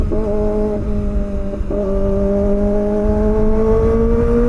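Loud Kawasaki ZX-25R motorcycle engine revving up in rising pitch sweeps, dipping briefly between pulls, close by and with no talking over it.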